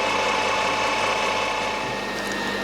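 Metal lathe turning a 30mm workpiece down toward 17mm diameter, a steady continuous mechanical whir with a faint ratcheting, clicking texture, close and even throughout with no voices.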